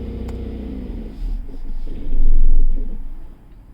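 An electrified truck converted with a Vtrux system, its generator motor disengaged, rumbles up in a swelling engine surge and then drops away as the engine stops, close and loud.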